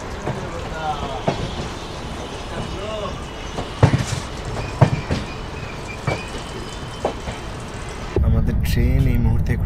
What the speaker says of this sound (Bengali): আমাদের ট্রেন এই মুহূর্তে ক্রস করলো দিলদার নগর স্টেশন